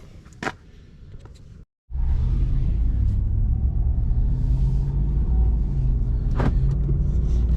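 A truck drives on the road, heard from inside the cab. After a few soft clicks and a brief silence, a steady, close, low road rumble sets in and carries on evenly to the end.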